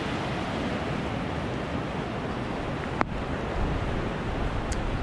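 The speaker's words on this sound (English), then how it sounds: "As you can see, it's these nice rolling waves, which makes for some really good bodyboarding." Ocean waves rolling onto Myrtle Beach on a good bodyboarding day, a continuous loud wash of surf with wind rumble across the microphone and no talk.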